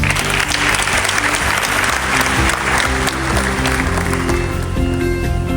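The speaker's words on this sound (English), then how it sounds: "he deserves a round of applause." An auditorium audience at the 2025 KSB Job Fair at KNUST gives steady, loud, continuous applause during an entrepreneurship talk, many hands clapping at once for over five seconds.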